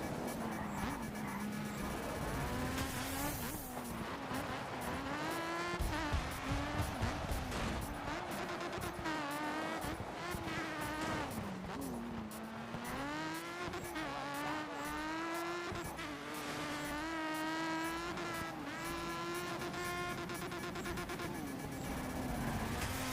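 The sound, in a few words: rally car engine hitting the rev limiter, from video game DiRT 2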